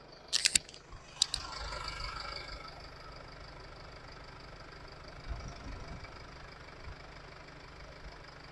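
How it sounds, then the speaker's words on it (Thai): A 2012 Mercedes-Benz ML250 CDI diesel engine idles at a low, even rumble after a few sharp clicks and clanks at the start, fairly quiet and steady with no talking. "นี่เดี๋ยวผมจะให้ฟังเสียงเครื่องนะ"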